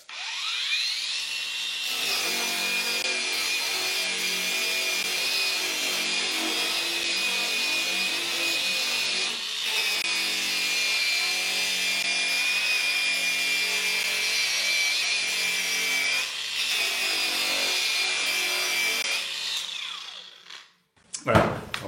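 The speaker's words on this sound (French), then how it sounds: "Avec cette machine-là, on va satiner en fait toute cette zone-là" Steady, loud whine of a satin-finishing machine working a stripped Peugeot metal part, a continuous high abrasive hiss that runs unbroken for about twenty seconds before cutting off abruptly.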